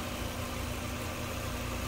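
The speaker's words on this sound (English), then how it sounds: "Engine sounds good, as you'd expect." A 1995 Mazda MX-5 Miata's 1.8-liter dual overhead cam 16-valve inline four-cylinder engine idles with a steady, even hum and a low mechanical drone, close up with no talking.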